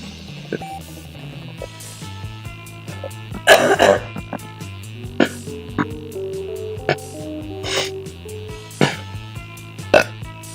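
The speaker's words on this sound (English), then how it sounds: "Once I clear my throat, there's a lot of mucus happening." Someone repeatedly clears a mucus-filled throat, with several rough, gravelly bursts spread across about ten seconds over quiet background music from a video game.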